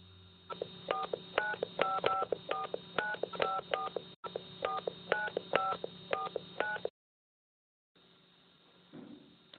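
A telephone number dialed on a keypad phone, a quick series of clear DTMF beeps in irregular bursts, a short pause, then more tones before falling silent, with faint room noise at the end.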